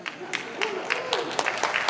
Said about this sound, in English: Let's hold the applause, please.